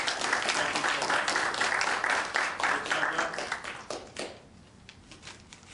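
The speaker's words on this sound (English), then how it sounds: "I want everybody to give Alan a round of applause." Audience applauding a guest at a Iwo Jima 70th anniversary ceremony, a lively crowd of hands clapping loudly for several seconds, then thinning out and fading to quiet.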